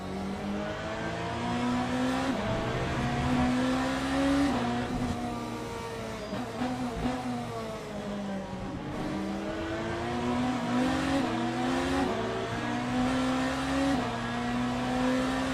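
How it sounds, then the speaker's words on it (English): A BMW race car engine in the racing game Le Mans Ultimate revs and shifts repeatedly, pitch climbing and dropping in cycles as it accelerates through gears, steady and close with no talking. "Beautiful BMW sounds."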